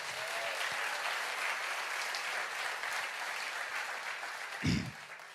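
A church congregation applauds during a sermon, steady mid-distance clapping that keeps going throughout, with a brief low thump near the end.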